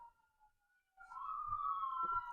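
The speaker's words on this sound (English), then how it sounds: "Sorry for the sirens." A siren wails in a long, steady tone on a North Philadelphia street, quiet at first and then swelling louder after about a second, with faint traffic rumble underneath.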